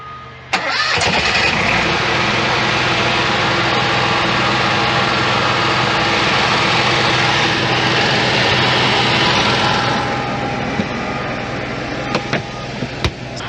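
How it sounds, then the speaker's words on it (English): An RV's onboard generator starts up and then runs steadily, close by and loud, a constant droning engine hum with no speech. "Once the generator has started, you'll make sure that the breakers are turned on the generator."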